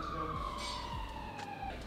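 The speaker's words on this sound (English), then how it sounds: "If you heard that siren then," An emergency vehicle siren wails past outdoors, a steady descending tone heard at moderate distance over traffic rumble, with no talking.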